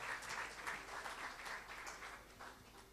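Audience applause for an orchestra at a Stabat Mater concert, a crowd clapping steadily with a dense patter of claps that slowly tapers, moderately distant with a faint murmur.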